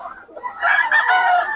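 A Boston Sweater gamecock rooster gives one loud, close crow that rises and holds steady, rich in harmonics, in a busy open-air market.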